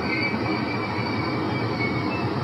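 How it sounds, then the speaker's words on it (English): A train rolling past on rails, a continuous loud rumble with metallic wheel squeal and rattling, close by and steady throughout, with no talk. "first of all, I thought the train was going that way."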